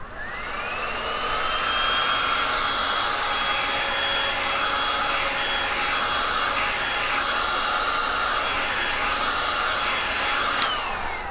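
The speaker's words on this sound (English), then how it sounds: "I'm going to lay it on the floor and heat it up from the back side." Heat gun blowing steadily on a roll of trim laid on the floor, warmed from the back side: a loud, constant high-pitched airflow whine that holds for the whole stretch, with a faint click near the end.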